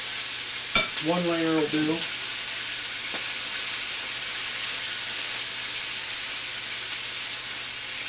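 Chicken pieces for Thai basil chicken frying in a single layer in a pan, a steady broadband sizzle running throughout, with a brief spoken phrase near the start.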